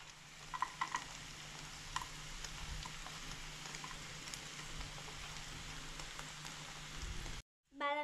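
Almonds frying in ghee in a pan for carrot halwa, giving a steady close sizzle with a few light stirring clicks, fairly soft throughout before a brief drop to silence near the end.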